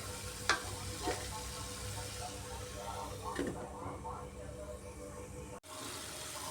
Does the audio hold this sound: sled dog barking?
no